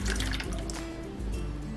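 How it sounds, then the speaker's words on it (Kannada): Tamarind juice pours into a pot of mashed dal in a continuous, close liquid trickle and splash, fairly soft and steady with a brief dip midway and no voices. "ಹುಣಸೆ ರಸ ಕಿವುಚಿದ್ನಲ್ವ,"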